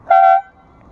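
A single short, bright horn toot from a BMW R nineT motorcycle, loud and close, lasting about a quarter second before cutting off.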